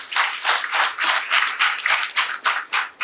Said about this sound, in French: Je voudrais que nous applaudissions très très fort le leader de la mouvance.